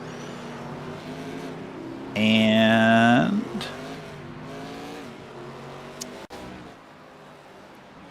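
Race car engines in a racing video game at Sonoma as one car passes a pitted car, a loud rising rev that sweeps up in pitch and then fades, with a commentator talking over it.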